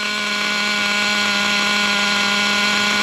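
A Traxxas T-Maxx RC truck's nitro engine idles in place after sitting unused for ten months, a steady, high, buzzing whine held at constant loudness and heard close with no voices.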